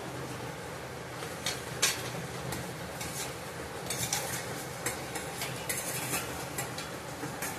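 Paneer pieces stirred in a cooking pan, with a quiet scraping and clinking of a spoon against metal and a faint sizzle underneath, a few sharper knocks standing out, no talking.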